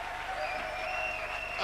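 A church congregation applauding, a soft, steady patter of clapping for a brief moment with a sustained tone over it.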